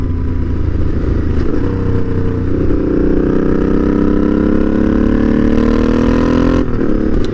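A 2013 Suzuki Boulevard M50 (VZ800) bobber motorcycle engine runs loud and close, a steady low rumble that rises in pitch as it revs and accelerates, then drops off sharply near the end, with no voices.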